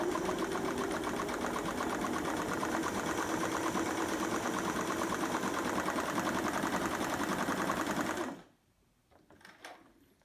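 A vintage Singer Stylist 513 sewing machine stitches steadily and loudly for about eight seconds with a fast, even mechanical rhythm, then stops abruptly, leaving a few faint handling clicks.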